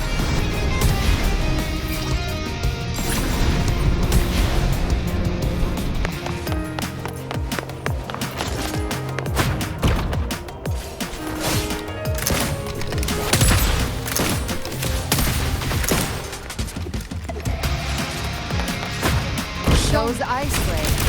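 Combat in the Wuthering Waves video game as a Feather Blade attack weaves through enemies while shooting: dense, continuous rapid bursts of gunfire and crashing impacts over layered game music, loud and busy throughout.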